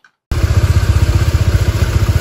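Four motorcycles idling together at a mountain camp area, starting abruptly after a short silence into a loud, close, throbbing engine chug with a steady pulsing rhythm.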